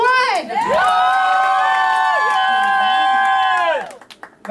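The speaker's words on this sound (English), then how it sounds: "it is up to you to decide who our winners are going to be by your applause, screams, and all that fun stuff" A party crowd at a birthday lap dance event cheers and screams loudly in sustained high-pitched shrieks for about four seconds, with clapping mixed in, before tapering off into scattered voices.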